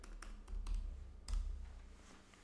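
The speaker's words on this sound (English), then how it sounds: "I'm gonna type in my PIN." A PIN is typed on a computer keyboard on a macOS Sierra system, a handful of soft, close key taps in an uneven rhythm over quiet room hum.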